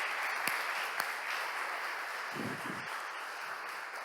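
A church congregation applauds, a soft continuous patter of clapping with a couple of sharper claps and a brief low bump, moderately distant.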